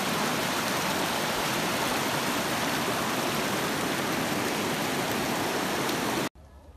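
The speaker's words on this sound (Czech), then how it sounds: "A takhle lesem protéká ten potůček." A small creek runs through a forest in Canada, a steady, loud, close rushing wash of water that holds even for about six seconds, then cuts off abruptly, with no voices over it.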